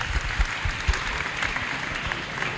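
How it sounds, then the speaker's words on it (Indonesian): Students at a vocational school applaud a classmate, a short burst of many hands clapping in a hall, fairly loud and fading slightly toward the end. "Tepuk tangan untuk Mas Taufik."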